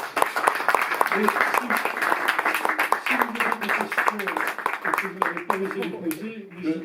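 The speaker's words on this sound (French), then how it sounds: "on va applaudir René Viennet" A crowd applauds René Viénet at a meeting at Potemkine in Paris, steady mid-level clapping running for several seconds while a voice talks over it toward the end.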